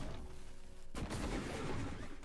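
Glue cannon firing in the 2017 video game Prey, a sudden burst shot breaking a quieter hum, followed by a dense sputtering gush that continues to the end.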